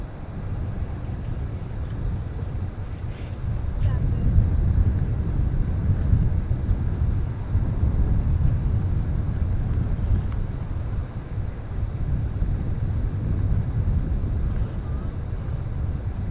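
Steady low rumble of an airliner at a busy airport runway, continuous and fairly loud throughout with a slight swell after the first few seconds, no voices.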